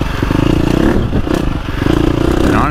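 A 2025 KTM 350XCF dirt bike rides a woods trail loop, its engine droning loud and steady and close, with a clattering, pulsing note and brief throttle dips throughout.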